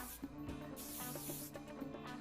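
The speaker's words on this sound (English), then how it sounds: "then spray again with a bit of hairspray to secure" A short hiss of an aerosol hairspray can, several quick bursts close by, soft and steady.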